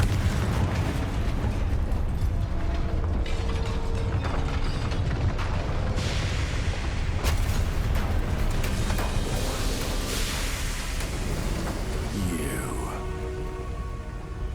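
A Confringo blasting curse erupts in the video game Hogwarts Legacy, giving a loud, sustained wash of booming blasts, bursts and mechanical clatter that runs steadily throughout.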